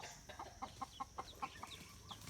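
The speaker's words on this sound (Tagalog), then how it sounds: "Yan, manukan niya. Yung mga inahin." Hens cluck in a chicken coop on a small farm, a quick run of short, faint clucks spaced in an uneven rhythm with a few higher calls between them and no talking.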